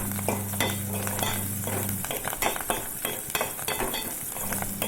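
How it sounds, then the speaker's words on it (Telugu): Cauliflower being stirred with turmeric using a spoon in a pan, spoon scrapes and clinks over a constant sizzle, with a low steady hum fading out midway and returning at the end. "స్పూన్తో కలిపేసిన తర్వాత అందులో కొంచెం పసుపు వేసుకొని మళ్ళీ ఒకసారి కలిపేసుకుంటున్నాం."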